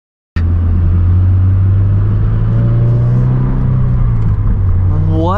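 A 2022 Subaru BRZ engine starts abruptly and holds a loud, steady rumbling drone while driving through a roundabout, with a slight rise in pitch near the end.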